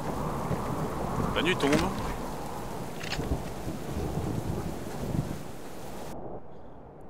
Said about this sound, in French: Le vent commence à souffler fort quand même.